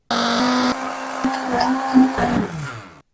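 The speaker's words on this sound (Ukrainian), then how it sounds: "Збиваю і вливаю олію." A hand blender whips homemade mayonnaise as sunflower oil is poured in a thin stream, giving a loud, steady motor whine that shifts pitch as the mixture thickens, then cuts off after about three seconds.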